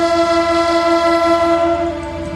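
Two-tone Nathan K1L horn on Indonesian locomotive CC206 1515 blares as one steady, loud chord for about two seconds, then softens and cuts off with no voices.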